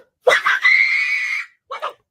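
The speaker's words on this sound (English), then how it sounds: "I just had to see her scream one more time" A woman's shrill scream played back from a video clip, with a short sharp burst rising into a long sustained high wail, then a brief second shriek after a pause.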